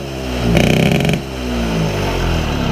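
A Yamaha PW50 dirt bike engine revs up sharply to a loud, buzzing two-stroke burst, then drops back to a steady, rough idle, close and with no talk over it.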